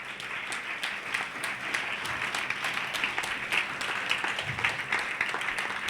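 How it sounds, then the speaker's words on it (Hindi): A church congregation at a Sunday service claps continuously, a dense, even patter of many hands heard from a moderate distance with no voices over it. "अच्छा, आप अपने लिए ताली बजा रहे?"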